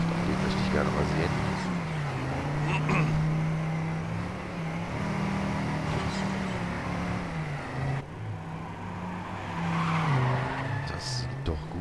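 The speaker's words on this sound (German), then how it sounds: "Schauen wir uns mal den Drift an, den möchte ich gerne mal sehen." A car in TM² Canyon drifts with a sustained tire squeal over a steady engine drone, loud and continuous throughout, rising again near the end while someone talks over it.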